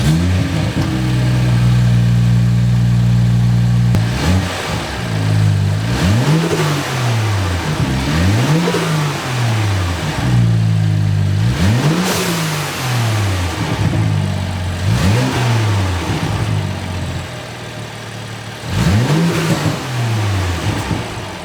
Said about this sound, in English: First, let me show you guys the stock intake sound.